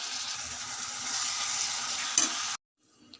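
Cut tomatoes and cucumber pieces being stirred in a pan with turmeric and salt for a tomato curry, a steady close sizzle with scraping for about two and a half seconds before cutting out, then a faint clink.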